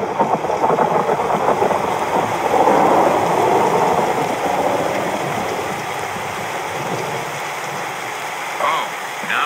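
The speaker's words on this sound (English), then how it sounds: "Oh, now it's raining" A steady wash of rain falls, broad and continuous, with a faint low rumble underneath and no voices.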